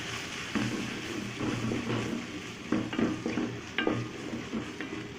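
Spice masala with turmeric and chili powder fries in a pan under a steady, moderate sizzle, broken by repeated scraping stirs of a spoon at close range and no speech.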